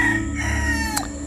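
Roosters crow at a farm, a drawn-out crowing call over a steady background of other fowl, with a short sharp squawk near the end and no voices.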